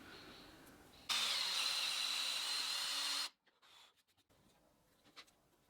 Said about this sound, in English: swap out the drill bit for a 19mm drill bit and drill away